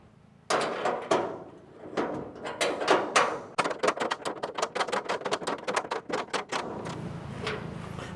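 A wrench tightening bolts on the trunk lid of a hot rod Model A Ford coupe: a few heavy knocks, then a long run of rapid metallic ratchet clicks up close, followed by quieter handling noise.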